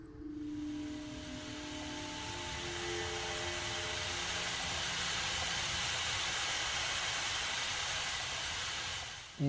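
Steady hissing steam from an electric kettle in the video game Silent Hill: Downpour, a broad even rush that swells slightly and holds for several seconds with faint tonal hum early on, no voices.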